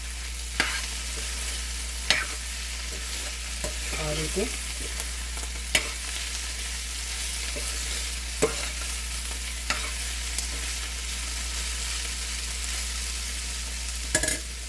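A spoon scrapes and knocks around a bowl in repeated, uneven strokes as a thick millet-flour dosa batter is stirred, with a brief spoken word.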